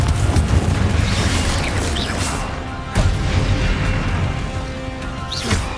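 Spell explosion of the Confringo curse in Hogwarts Legacy, a dense, rumbling blast with further booms near 3 and 5.5 seconds amid continuous game combat noise.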